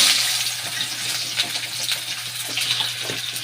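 Winter vegetables tipped into hot oil, giving a steady close hiss and sizzle with scattered crackling pops throughout and no talk.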